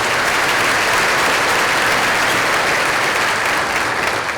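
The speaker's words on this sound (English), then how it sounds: "Let's give Isaac a round of applause." An audience at a school district keynote event gives a sustained, even round of applause, dense and loud from start to finish with no voices over it.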